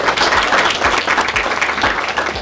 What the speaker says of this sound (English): Can we give Nikki a round of applause?